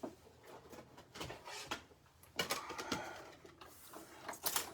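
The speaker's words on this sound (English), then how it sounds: "We're going to get our Stampin' Cut and Emboss machine out" Mechanical clicks, thumps and rattles as a Stampin' Cut and Emboss machine is handled and cranked to die cut paper. Irregular, close and fairly quiet, with a few sharper clacks.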